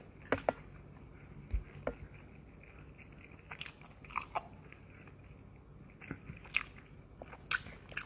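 Crunchy fried anchovies (ikan bilis) are bitten and chewed up close, giving irregular crisp crunches in small bursts with quiet pauses between them.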